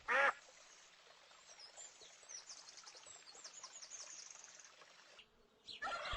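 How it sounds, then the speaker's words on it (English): A duck gives a sharp quack, then a faint rapid chatter of soft calls and buzzing runs beneath it before a second loud quack closes the stretch. "Here is a duck."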